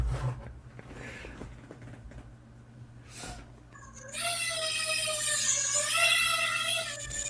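An EMAX BabyHawk R racing drone buzzes in flight with a high, whiny motor tone that kicks in partway through and keeps climbing and wavering in pitch, loud and close after a quieter start.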